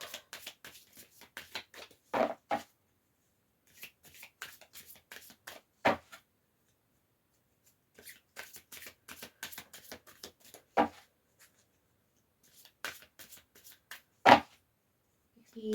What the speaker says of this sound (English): now we're going to draw oracle card